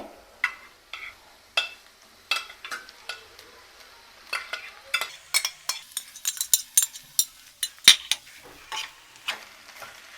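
A spoon scrapes and clinks against a pan as potato pieces are stirred into sizzling onion masala for masala dosa filling, with irregular close taps and scrapes over a soft fry.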